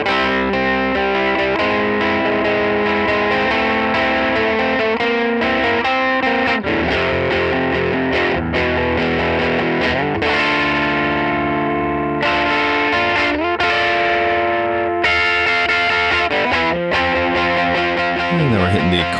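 Electric guitar power chords through an SFT amp pedal, heavily distorted and sustained, played loud and alone with strummed chord changes ringing out in a dense wall of crunchy tone.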